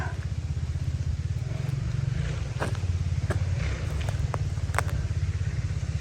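A motorcycle engine drones steadily close by on a forest path during mushroom picking in Germany, a low throbbing hum that holds for the whole stretch, with a few scattered clatters and footstep-like knocks on top.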